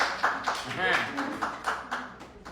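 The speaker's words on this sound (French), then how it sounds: "Applaudissez." Scattered hand claps from a small group of people punctuate loud talking, a few sharp bursts spaced roughly every half second during a contestant ranking announcement.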